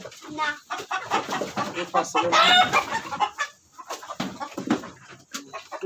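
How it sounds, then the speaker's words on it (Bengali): Hens cluck and squawk steadily at a rooftop chicken farm in Mouchak, Gazipur, close and busy, with a burst of louder calls midway and faint voices now and then in the background. "আমার বোন মুরগির খামার করছে"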